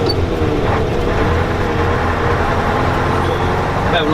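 An OM Super Orione truck with an eight-cylinder engine runs close by, a steady, heavy low rumble with a deep throbbing hum that holds at an even level throughout.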